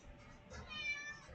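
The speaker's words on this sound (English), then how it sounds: "Oh no! It's my cat again." A cat meows once, a drawn-out, faint call heard close but quiet indoors, with no talk over it.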